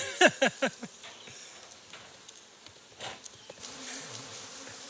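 Buzzing of many honeybees around an opened hive during a honey harvest, with a few sharp knocks at the start and light handling noises throughout.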